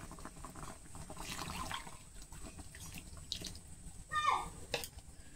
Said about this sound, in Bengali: তো এখন আমি শেষে আর একবার জল দিয়ে দেবো।